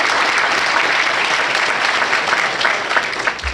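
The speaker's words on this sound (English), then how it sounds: "Let's everybody give yourself a round of applause." A police department employee-of-the-year ceremony audience breaks into dense, sustained applause, with many hands clapping loudly and evenly before tapering slightly at the end.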